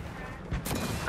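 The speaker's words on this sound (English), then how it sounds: "I hear gunshots" Gunfire rings out in a Fortnite match, a couple of sharp cracks and a dull boom landing in quick succession, muffled and somewhat distant.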